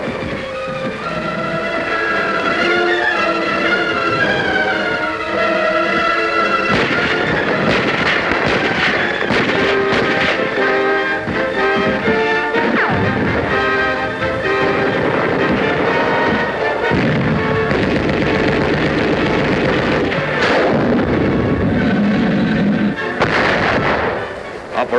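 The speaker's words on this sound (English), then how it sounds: "Tanks shove through the jungle. Behind them come rifles, machine guns, BARs, and the medics." Tanks grind through jungle terrain amid gunfire, a loud, dense clatter of tracks and engines with heavy bursts of firing over a soundtrack of orchestral music, continuous throughout.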